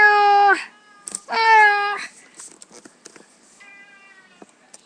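A cat meows twice loudly and close by in drawn-out calls, followed by small rustles and a fainter, softer meow near the end.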